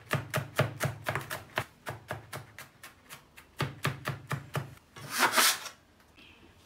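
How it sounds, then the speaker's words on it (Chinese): A knife minces flattened garlic on a board in quick, even chops close up, with about twenty strikes broken by a short pause, then a brief scraping rush at the end. "再剁成蒜末"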